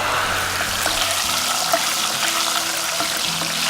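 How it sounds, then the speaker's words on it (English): Sage leaves frying all at once in hot oil, a steady bubbling sizzle that runs continuously and close, with faint crackles over a low kitchen hum. "I'm just going to put them all at once into this oil. It's going to make a bit of a noise, but it won't splatter."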